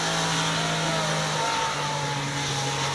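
A car engine revs loud and steady at a mud racing event in Millumpadi, Mezhathur, a continuous throaty roar with shifting pitch that runs through the whole stretch.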